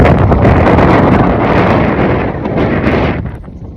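Strong wind buffets an outdoor microphone with loud, continuous rumbling gusts that ease slightly toward the end, and no other sound is clear.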